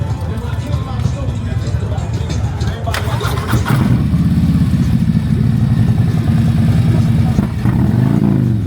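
A motorcycle fitted with cams rumbling at the Bikes, Blues and BBQ motorcycle rally in 2024: a loud, close engine that settles into a steady, deep throb, with crowd chatter and people talking nearby throughout.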